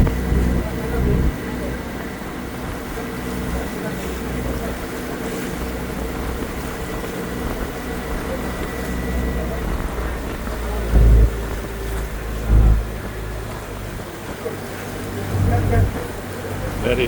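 A tour boat crosses the Pacific Ocean near Victoria Island, its engine and hull making a steady low rumble with wind over the water and a few heavier thumps from waves.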